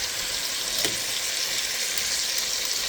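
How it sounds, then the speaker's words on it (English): Fresh minced garlic sizzling in a pan while a red wine sauce for beef short ribs is started, a dense continuous hiss of frying, close and loud, with no talk. "Fresh minced garlic."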